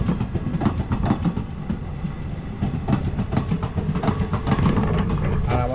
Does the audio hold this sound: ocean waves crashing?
no